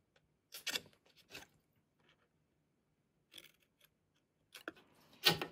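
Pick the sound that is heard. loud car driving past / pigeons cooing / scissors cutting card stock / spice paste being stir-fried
scissors cutting card stock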